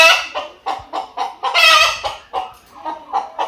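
Caged chickens on a farm cluck and squawk in rapid, loud bursts close by, an agitated run of about a dozen calls with no talking.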